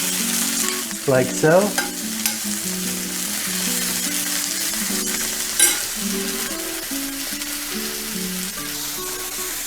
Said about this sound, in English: We're also going to go in with some sliced shallots, and we'll give that a mix.